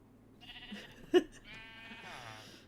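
A Minecraft sheep bleats once in a short, quiet burst, with soft game background sounds around it and no talking.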